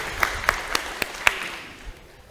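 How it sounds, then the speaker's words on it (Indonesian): Scattered claps from a small audience at an oil palm technical training session in Melawi, West Kalimantan, a few distinct near slaps spread over two seconds before fading into quiet room tone. "Tepuk tangan dulu."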